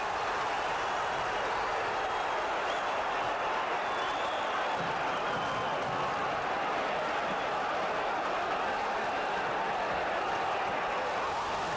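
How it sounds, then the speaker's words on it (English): A boxing arena crowd during a heavyweight fight, a broad, steady roar of many voices at a distance, swelling slightly partway through and staying sustained throughout. "Getting hit by a left and the crowd roars."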